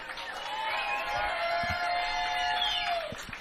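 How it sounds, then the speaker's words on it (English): A motocross race-day crowd at Fox Raceway cheers and whoops for James Stewart, a broad wash of distant yells and screams with a few claps. "Let's have a big round of applause."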